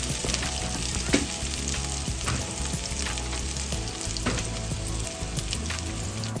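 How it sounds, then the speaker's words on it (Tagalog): Garlic and onion fry in hot oil in a pan, a continuous close sizzle with occasional soft knocks and stirs, no voices. "Sunod na rin natin yung bawang."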